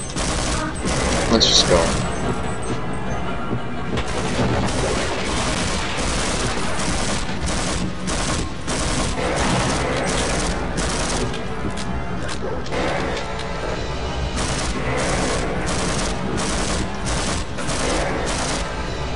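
A gun fires in the video game Half-Life, a rapid, loud fusillade of dense shots running almost continuously with brief gaps, while someone talks briefly over the gunfire.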